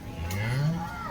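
An HF cow at a cattle market in Baramati gives a single close, low moo that rises and swells for about a second, with faint market background behind it.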